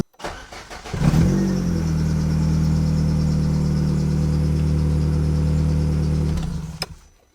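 A small Mini car engine cranks briefly and catches, then settles into a steady, close idle hum for several seconds before cutting off.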